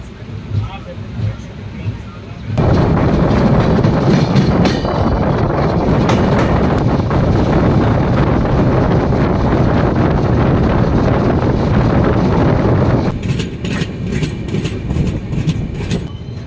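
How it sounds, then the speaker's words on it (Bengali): A train runs from Kolkata toward New Jalpaiguri with a loud, steady rumble of rolling wheels and carriages, wind buffeting the microphone, and a rhythmic clatter over the rails near the end. "ট্রেন ছাড়লো নিউ জলপাইগুড়ির উদ্দেশ্যে"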